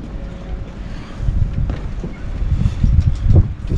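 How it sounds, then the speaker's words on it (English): Strong wind buffets the microphone outdoors aboard a boat, a steady rushing roar with louder gusts surging in the second half and no voices. "Nice day for it, a little bit windy"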